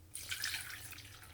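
Water is poured into a pot of cream of rice, a short, soft splashing trickle lasting just over a second with no voices.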